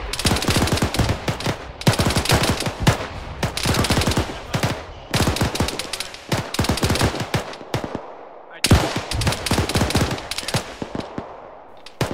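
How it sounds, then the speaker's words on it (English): Gunfire in a military video game, rapid automatic bursts of sharp shots in repeated volleys, loud and close, with a brief pause before firing resumes. "Firing, firing, firing. Fire!"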